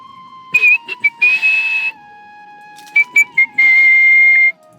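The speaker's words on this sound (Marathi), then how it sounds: "शिट्टीचा आवाज बघा येतो की नाही" Loud, close whistling in short bursts and sustained notes, several sliding and steady tones separated by brief pauses.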